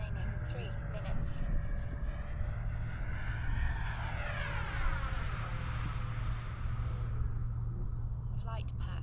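FMS Yak-130 RC jet model flying at full throttle, a steady whining ducted-fan roar that sweeps in pitch as it passes, with a voice talking over it throughout.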